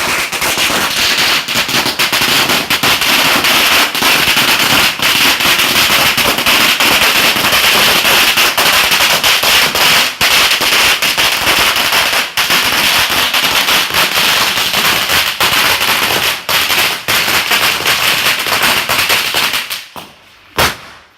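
Chinese New Year firecrackers set off outdoors: a long, loud, dense string of rapid popping and crackling bangs that runs for about twenty seconds, then stops abruptly.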